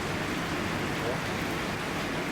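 Heavy rain pours down over a subdivision in a continuous, dense wash of broadband noise with no gaps.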